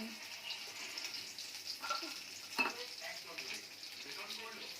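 Garlic frying in oil with black cumin in a home kitchen pan, a soft steady sizzle at low level with a brief sharper crackle midway.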